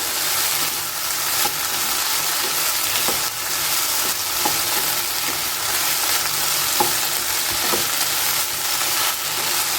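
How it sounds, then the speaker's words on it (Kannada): Sliced okra fries with salt in a pan over medium flame for a traditional Havyaka-style curry, giving a steady, dense sizzle throughout, broken by occasional light stirring taps. "ಉಪ್ಪನ್ನು ಹಾಕಿಬಿಟ್ಟು ಫ್ರೈ ಮಾಡೋದ್ರಿಂದ ಬೇಗ ಫ್ರೈ ಆಗುತ್ತೆ ಬೆಂಡೆಕಾಯಿ"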